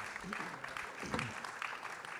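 An audience at a French public talk on the European Union presidency claps briefly for a parliamentary delegation, the applause mixed with a voice speaking over it.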